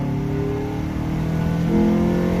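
A 2006 Nissan Altima with a 2.5 four-cylinder QR25DE engine, fitted with a header and cold air intake, accelerates in a steady, fairly close drone that shifts up slightly near the end, with no voices.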